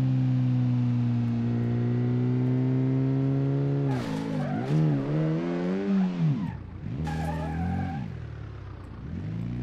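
A Satsuma car in the video game BeamNG Drive runs with a steady droning engine hum, then the pitch dips and wavers with scraping and tire noise as it crashes into another car, loud and close.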